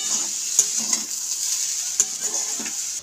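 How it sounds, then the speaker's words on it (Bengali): Flattened rice (chire) pulao being stirred in a pan, with soft scraping strokes and light sizzling under a steady frying hiss, a few sharper utensil knocks standing out, close and alone without talk. "এইভাবে নাড়াচাড়া করতে থাকবো"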